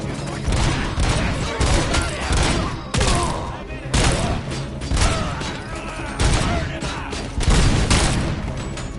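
A big gun firing in RoboCop: Rogue City, loud, dense repeated booming shots in steady heavy bursts throughout, with voices underneath.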